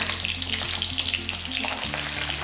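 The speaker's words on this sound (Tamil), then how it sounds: "சின்ன வெங்காயம் வந்து இது நல்லா வதங்கிட்டு இருக்கட்டும்" Ginger, garlic and shallots sauté in hot oil in a pan, giving a steady, close crackling sizzle. It runs continuously throughout under a low background hum, with no voices.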